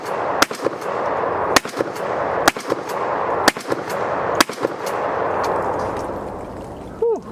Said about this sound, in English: this is the Norinco firing.